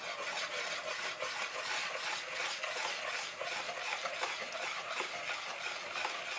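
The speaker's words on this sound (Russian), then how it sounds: "И смешиваем до однородности." Chocolate sponge cake batter is stirred as wet ingredients are worked into the dry, a steady close, soft swishing and rubbing that runs continuously in an even rhythm with no voices.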